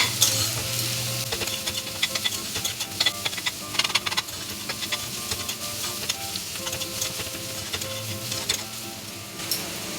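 Ginger garlic paste fries with onions in a pan, a steady close sizzle with scraping stirs and light utensil clicks throughout, no voices.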